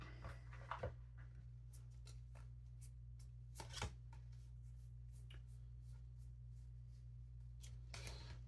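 Cards from the board game Aeon's End being shuffled and drawn at a table, faint soft riffles and a few sharper clicks over a steady low hum, heard close and without talk.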